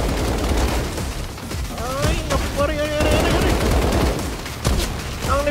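Gunfire in the Strinova third-person shooter game, dense rapid automatic bursts with sharp cracks throughout, loud and close, mixed with other game effects.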